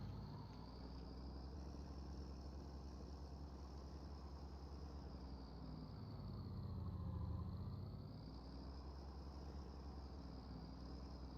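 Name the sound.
truck engine idling in Farming Simulator 19 video game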